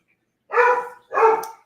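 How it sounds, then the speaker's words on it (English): A dog gives two loud, close barks about half a second apart, with no one speaking. "Oh, the dog is gonna bark."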